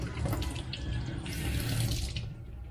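Tap water runs steadily from a faucet while an LS2 motorcycle helmet visor is rinsed, a close, even splashing stream for a few seconds with no talk.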